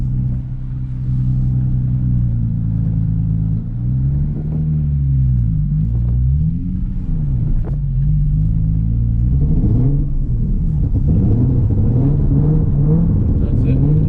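A Nissan 350Z's engine rumbling and rising and falling in pitch with repeated throttle blips during a drift on a track, loud and steady from inside the car, with occasional talk.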